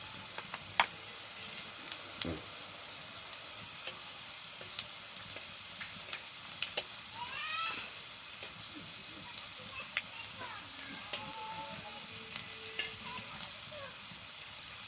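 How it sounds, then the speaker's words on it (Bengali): Whole garam masala, dried red chillies and cumin seeds sizzling in hot oil as a tempering for a raw banana kofta curry, a close steady frying hiss broken by scattered sharp pops and spatters. "ফোড়নে দিচ্ছি গোটা গরম মশলা, শুকনো লঙ্কা আর গোটা জিরে"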